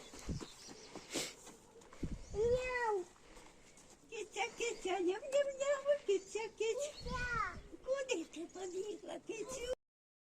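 A cat meows a couple of times, rising and falling, outdoors in a spring village setting, mixed in with people, including a child, talking nearby.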